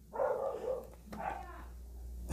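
Dogs bark indoors, upstairs from a room where headphones are being unboxed: two bursts of barking with a brief pause between, fairly close and loud against the room tone.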